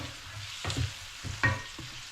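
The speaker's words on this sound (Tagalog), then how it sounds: "ang ating karne at ang ilagay natin ginger, garlic, at saka onion" Meat stir-fried with ginger, garlic and onion sizzles steadily in a hot pan, with a few close scraping and stirring bursts and no voices.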